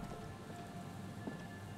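Soft, steady rain and wind in the video game Disco Elysium, a quiet continuous hiss with a low rumble underneath and no voices.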